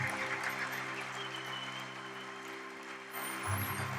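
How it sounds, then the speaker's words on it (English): A crowd applauds steadily, a continuous wash of clapping from many hands, moderately distant, with a low hum underneath. "And then give them another round of applause"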